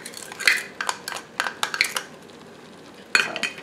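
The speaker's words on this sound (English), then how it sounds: "So I'm going to stir this up" A spoon scrapes and knocks against a pot while red cabbage with sugar and molasses is stirred, a series of close metallic clinks in uneven rhythm with a short pause before a final few strokes.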